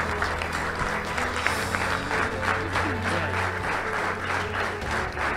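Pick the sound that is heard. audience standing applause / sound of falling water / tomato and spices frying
audience standing applause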